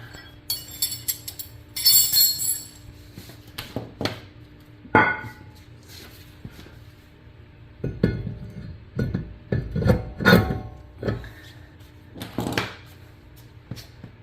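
A brake rotor is fitted onto the front hub of a Hyundai Equus/Genesis, giving sharp metallic clinks, knocks and scraping clatters in irregular bursts at close range.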